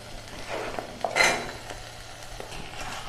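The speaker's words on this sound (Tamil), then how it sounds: "நல்லா கிண்டிக்கலாம்." Chopped white pumpkin being stirred with sautéed onion and tomato in a pan for a Tamil kuzhambu, a spoon scraping and clinking against the metal with a soft sizzle, close and fairly quiet.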